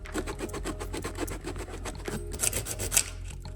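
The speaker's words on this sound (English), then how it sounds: "I'm actually gonna take some sandpaper and we're gonna scuff this part up as well as on the inside of the helmet" Sandpaper scuffing the inside of a motorcycle helmet, a close, steady rasping rub repeated in quick back-and-forth strokes, with a couple of sharper scrapes near the end.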